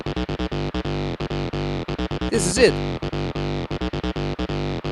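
Rhythmic, gritty Roland TB-3 synth bass line in a repeating pattern, buzzing with overdrive rather than distortion; a short spoken phrase cuts in midway.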